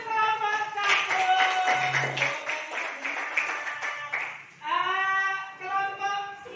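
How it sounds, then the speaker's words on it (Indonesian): A classroom of students claps for a group, scattered light handclaps mingled with children's voices and a prominent bright talking voice over them, close and moderately loud. "tepuk tangan untuk kelompok 1"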